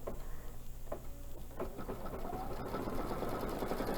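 A sewing machine double-stitches a fabric star for a tree project, producing a rapid, steady mechanical whirring and clatter up close after a few brief starts and stops, with no speech.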